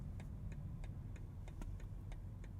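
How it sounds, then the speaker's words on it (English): Turn signal on a 2023 Alpina XB7 ticking in a steady, even rhythm, about eight soft clicks over a low interior engine hum, no voices. "And how about the turn signal sound?"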